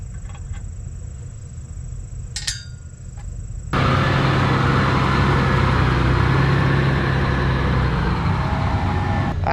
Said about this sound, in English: we're gonna try pulling the truck probably backwards with this tractor